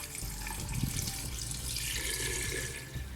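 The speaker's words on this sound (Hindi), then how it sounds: "तकरीबन 8 से 10 ग्लास मैं पानी इसके अंदर ऐड कर दूँगी" Water pours steadily into a cooking pot for beef yakhni biryani, a continuous splashing stream for about three seconds, close and moderately loud with no talk.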